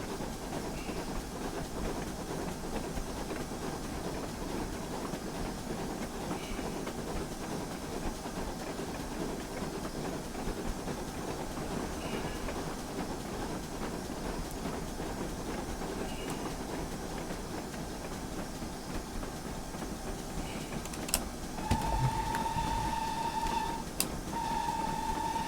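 A double-headed steam train runs in Train Simulator 2019 on the Abermule route, giving a steady rumbling hiss and rolling clatter throughout, with a brief whistle-like tone near the end.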